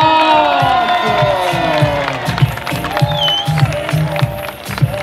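A large crowd cheering and whooping loudly at the Paris-Roubaix 2019 team presentation, with music and an excited announcer's voice over the noise.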